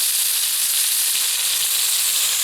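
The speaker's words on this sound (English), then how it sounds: "You can hear it sizzling." Steady, bright sizzling of food frying on a camp stove, a constant crackling hiss up close with no talking.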